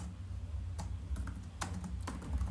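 Keystrokes on a computer keyboard while working in Databricks, a handful of separate clicks spread unevenly across a few seconds, fairly quiet over a low steady room hum.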